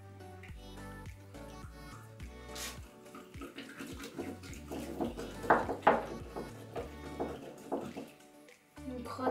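Orange-scented slime from a kit being stirred and mixed, giving wet squelching, sloshing and clicking sounds that build in the middle, close and fairly faint, with no talking.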